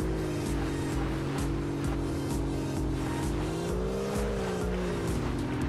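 A car driving off-road in the video game Russian Car Driver, its engine holding a steady, loud drone with slight pitch swells over a constant rough rumble, and no talking.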